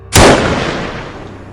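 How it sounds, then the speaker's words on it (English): A single loud gunshot cracks sharply nearby, followed by a long echoing decay that fades over the next second. "Out of nowhere, I hear a gunshot."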